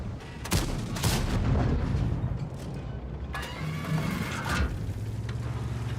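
Heavy tank cannon rounds boom in a World of Tanks-style battle as an IS-7 fires at the Maus, several sharp reports over a dense roar of engines and battlefield rumble, no talk.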